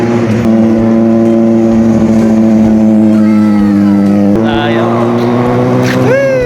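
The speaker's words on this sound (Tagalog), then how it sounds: "nagulat ako dahil Kawasaki Ninja 1000 SX pala itong dumaan" A Kawasaki Ninja 1000 SX motorcycle passes close by with a loud, steady engine drone and shifting pitch, rising sharply near the end as it revs away.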